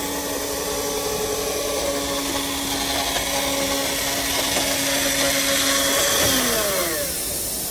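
Industrial cutting machine squaring and trimming Dickson awning fabric for a made-to-measure terrace awning: a steady motorized whine with a sustained tone that bends upward near the end, continuous and fairly loud with no talk.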